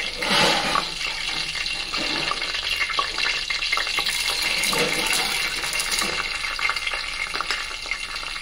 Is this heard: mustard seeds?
yes